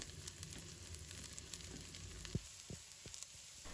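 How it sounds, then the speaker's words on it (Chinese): Shallots sizzle in hot cooking oil in a wok, a faint, steady crackling fry with a few sharper pops and spatters toward the end. "油热之后把红葱头倒入锅中，把它炒香"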